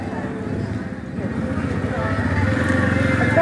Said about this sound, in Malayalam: അങ്ങനെ നമ്മൾ ബൈക്ക് പാർക്ക് ചെയ്തു.